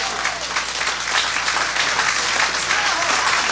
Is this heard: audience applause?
yes